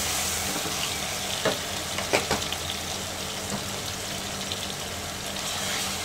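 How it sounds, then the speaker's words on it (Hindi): Onions with salt fry on a fast flame in a pan until soft, a steady close sizzle with a few sharper stirring clatters and scrapes in the middle, no voices. "प्याज को फ्राई कर लेंगे सॉफ्ट होने तक"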